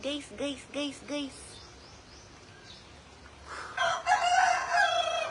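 A few short voiced calls come first, then after a quiet pause a rooster crows loudly and close by.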